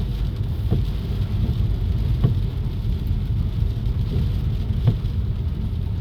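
Steady rain falls on an overcast day in Vientiane, a dense even hiss with a low rumble underneath and a few faint, brief knocks standing out.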